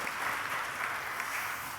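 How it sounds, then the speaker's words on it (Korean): A church congregation applauds its Hallelujah choir, a soft, distant, continuous wash of many hands clapping heard at low level. "우리 할렐루야 찬양대 위해서도 한 번 더 우리 뜨거운 박수로"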